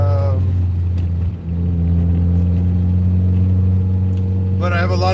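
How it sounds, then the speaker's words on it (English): Steady low engine drone and road rumble inside a car while driving, continuous and fairly loud throughout, with a brief dip near the middle and a voice briefly over it at the end. "I have a lot of extra noises now inside of the car"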